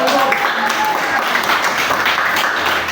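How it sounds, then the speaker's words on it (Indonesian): A classroom group applauds after group results are announced at a teacher training session, dense continuous clapping from many hands filling the whole stretch at steady loudness. "Tepuk tangan untuk kelompok."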